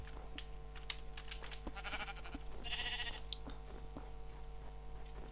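Sheep in the Minecraft video game bleating several times in short, repeated calls over a faint steady hum, with no talking.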